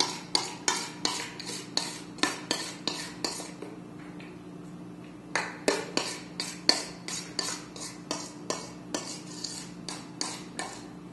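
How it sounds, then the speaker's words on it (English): Spoon repeatedly scraping a bowl while a filling is dolloped onto a vegan pumpkin graham cracker crust; a steady run of close, sharp clinks and scrapes, a brief pause midway, then the same quick rhythm again, with no talk. "spoon the mixture"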